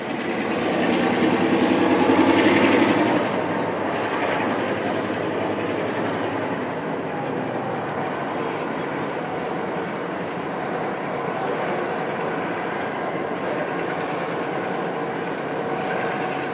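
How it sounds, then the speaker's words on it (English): Diesel locomotives move and idle at a busy Union Pacific rail yard beside a diesel shop and hump yard, a continuous low rumble at a distance that swells briefly and then settles into a steady drone. "viewers can easily see the diesels being serviced and moved around"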